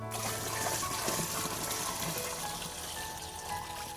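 Old, slightly greenish water from a fish farm tank pours into a Daphnia culture container, a steady close splashing trickle that keeps going without a break.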